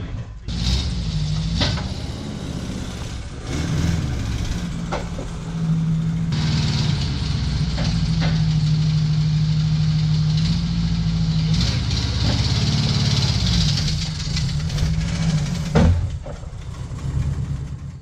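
A 1973 VW Sports Bug's air-cooled engine runs close by on its first drive after revival, a steady chugging drone with shifts in pitch and occasional clunks and rattles, voices faintly under it.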